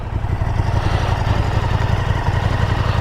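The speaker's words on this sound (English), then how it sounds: "it's a V8 layout motor. It does have a similar rev characteristic to the 3-cylinder." A KTM 1290 Super Duke GT motorcycle, a V-twin sport tourer, idles in neutral with a steady, choppy low rumble that stays close and loud throughout, with no voices.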